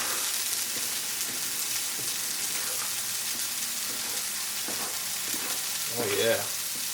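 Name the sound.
nopales charring and sizzling in pan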